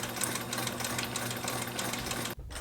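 A sewing machine runs a zigzag stitch along the double-folded hem of a mesh pocket on a running phone pouch, a steady close mechanical hum that cuts off abruptly near the end.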